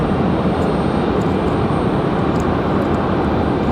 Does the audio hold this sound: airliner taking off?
yes